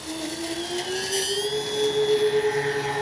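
A B-25J warbird radio-controlled model plane taking off from grass, its engines producing a steady high whine with rising harmonic tones as it speeds up, heard close and alone.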